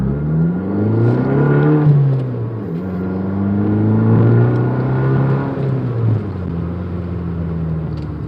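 A 2015 Fiat 500 Abarth pulls hard in eco mode at night, its turbocharged engine rising in pitch through the gears in loud, close sweeps, with brief dips between shifts and a steady drone underneath.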